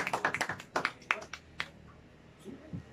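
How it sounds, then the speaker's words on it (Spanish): A small gathering at a mariachi birthday celebration for a mother claps, a short burst of a few hands tapping close by that thins out into scattered claps and quiet. "Ese aplauso para ese amor tan bonito. Fuerte, bonito ese aplauso."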